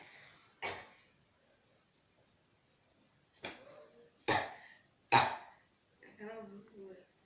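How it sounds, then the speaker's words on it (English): A patient with congestive heart failure coughs in a quiet room, four or five short, separate hacking coughs and throat clears spread over several seconds, with a brief voiced murmur at the end. "you see the patient coughing"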